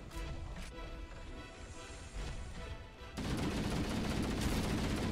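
Gunfire in the Halo 1 campaign, a dense, continuous burst of shots and crashes that grows louder and heavier midway, with no talking.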